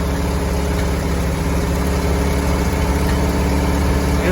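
A Volkswagen Type 4 engine fitted with dual Solex 34 CB carburetors idles steadily and a little fast. The low, even rumble is close and continuous, with no change in pitch throughout.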